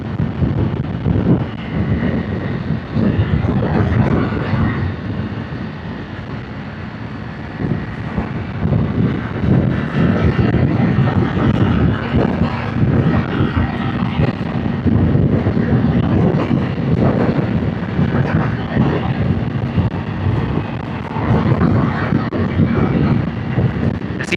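Motorcycle cruising on a highway, a continuous low engine drone buried in heavy rushing wind noise that stays loud and steady throughout, with no clear speech.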